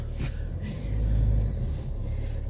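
A car driving along a road, a steady low engine rumble and road drone throughout that swells briefly in the middle, heard from inside the vehicle with no talking.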